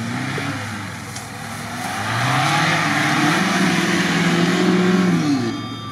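Engine of an old Soviet Kopeyka (VAZ-2101) car revving hard while driving off-road with no passengers, pitch climbing and holding steady under load, close and loud, with no talk.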